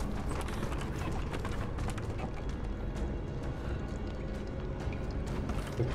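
Horses in a stable in Rise of the Tomb Raider, a busy steady clatter of hoof clops and shuffling mixed with ambient game noise, with no speech.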